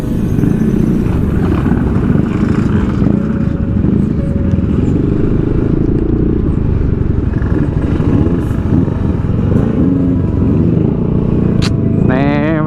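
Engine drone of a Yamaha Xmax 300 scooter riding on a road, loud and continuous with wind rumble throughout and a brief higher whine near the end.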